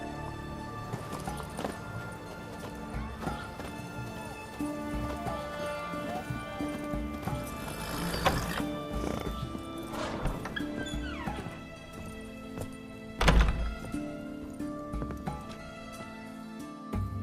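Roach, a horse in The Witcher 3 video game, gallops with a steady clip-clop of hooves and gives a whinny over game music and ambience, with a louder thump near the end.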